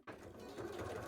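A sewing machine stitches cheap lamé cosplay fabric in a short, faint, steady mechanical whir that starts abruptly and runs evenly without pause.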